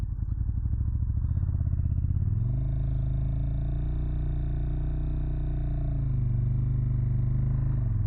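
A 2018 KTM 1290 Super Duke R rumbles at low speed through a tight U-turn, its deep twin-cylinder engine throbbing steadily and close, with the pitch rising slightly mid-turn and settling again.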